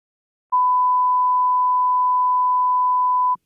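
A steady electronic censor beep, one continuous tone of about three seconds, covers spoken personal details in a podcast conversation, loud and clean with no talk audible beneath it.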